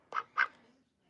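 Pet duck Olivia Gray gives two quick nasal quacks close by, followed by a short gap and the start of another sound, kept indoors on a cold day.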